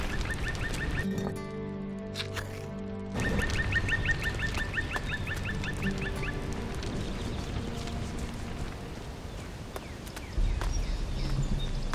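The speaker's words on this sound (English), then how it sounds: "I'm not killing any peaceful ducks, the poor animals." Ducks in the video game Risen 3 give out repeated nasal quacks in bursts, some close and loud, others trailing off, over a steady game background.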